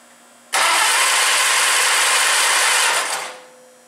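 Engine of a 1952 Case VAC tractor cranking in one sustained burst of about two and a half seconds, a loud, dense, even whirr that starts abruptly and then tapers off, close and with no talk.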